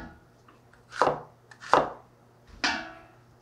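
Knife cutting ingredients into chunks on a cutting board, three sharp, separate chops spaced under a second apart in a quiet kitchen.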